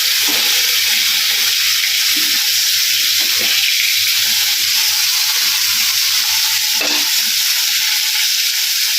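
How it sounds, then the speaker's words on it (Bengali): Food frying in a pan in a home kitchen, a steady hiss of sizzling oil running the whole time, with a low hum and a brief clatter near the end; no one speaks. "ভাজা হচ্ছে"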